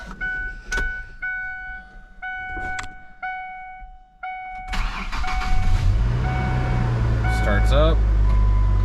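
A truck bought at a garage sale starts up: a few rhythmic warning chimes first, then the starter cranks and the engine catches into a steady low idle that grows louder and close.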